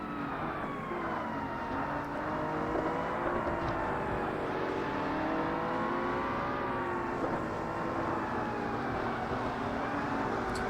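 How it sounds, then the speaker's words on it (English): A race car engine in the Forza Motorsport video game drones steadily at high revs through the whole stretch, with slight pitch shifts as it drifts at speed, loud and continuous with no talk over it. "This car should not be drifting at 140 mile an hour."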